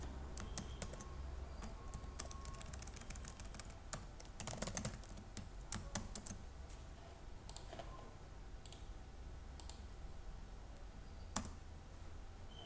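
Someone types a username on a computer keyboard: quiet, irregular clicking keystrokes in bursts and pauses, close but soft, with no voices.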